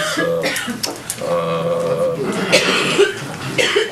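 A woman coughs several times in short, sharp bursts during a board of education meeting, fairly close and loud, with brief vocal sounds between the coughs.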